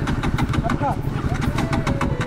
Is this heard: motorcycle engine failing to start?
yes